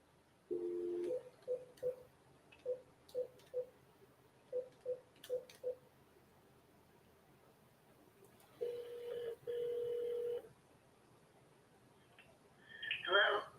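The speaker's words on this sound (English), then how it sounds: "Do you want me to try and call you back?" Telephone keypad dial tones beep in a quick series of short evenly spaced pulses, followed by a longer steady ringback tone repeating twice, then a brief electronic chirp at the end.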